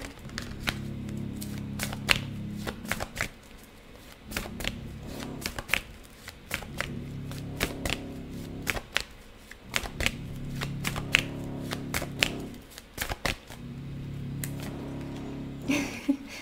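Tarot cards being shuffled by hand in repeated bursts of riffling and sliding, with quick crisp card flicks and short pauses between rounds, close up and with no talking.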